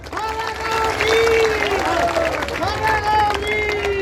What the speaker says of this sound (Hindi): तो एक बारी सारा गांव के लिए तालियां बजा दो।